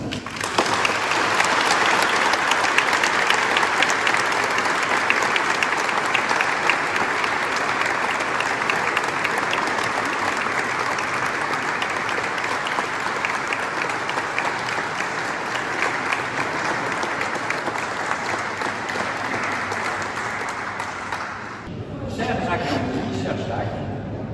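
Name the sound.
applause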